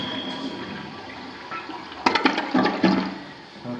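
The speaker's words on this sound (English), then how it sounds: "that's the siphon action of this commode" A 1950s commode in a ranch-house bathroom flushes, a steady rush of water with gurgling siphon surges building near the end, close and clear with no talking.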